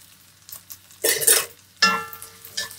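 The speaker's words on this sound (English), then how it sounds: "I'm going to fry this on medium-high heat for about 5 minutes." Coriander stalks, garlic and shallots fry in mustard oil over medium-high heat, with two loud bursts of sizzling and a spatula scraping the pan between quieter moments.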